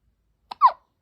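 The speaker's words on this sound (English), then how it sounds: "You got the hiccups?" A one-week-old newborn baby boy hiccups once, a short, sharp, close little gulp with a faint catch just before it, set against near silence.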